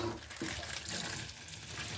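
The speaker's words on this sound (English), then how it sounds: "Now I'm going to rinse the casings." Water splashing and sloshing in a brief burst while rinsing dirty brass ammunition casings, close by, with a faint rushing wash running underneath.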